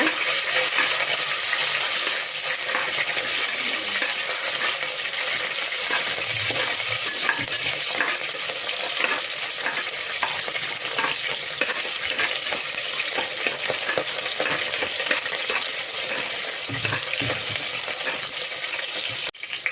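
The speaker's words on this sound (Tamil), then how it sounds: "எல்லாமே சேர்த்துட்டு நல்லா வணக்கிக்கோங்க" Onion, garlic and green chilli sauté in a hot pan, giving a constant close sizzle with frequent scraping stir strokes throughout, and no voices over it.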